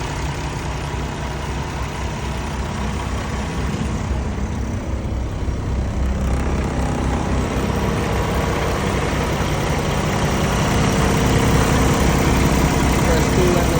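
A 2022 Peterbilt 579 truck's Paccar 510-horsepower diesel engine idling, a steady low rumble with a constant broadband hum and no change in rhythm, held at a moderate level throughout.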